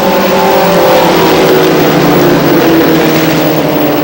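A mini-stock race car engine fires up and revs steadily at a dirt-track speedway during a caution, a loud, continuous droning roar with sustained harmonic engine tone throughout.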